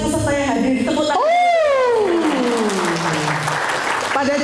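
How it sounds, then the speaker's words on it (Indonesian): A seminar audience claps loudly together in a hall, the steady crowd applause sustained throughout while a high gliding tone sweeps over it and voices mingle in. "Tepuk tangan."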